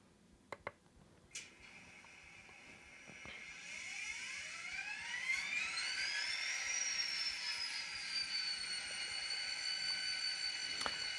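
ScaleTrains N scale SD40-2 model diesel locomotive with sound switched on: a few clicks, then a steady electronic engine drone whose whining pitch rises and settles, growing louder and holding steady to the end.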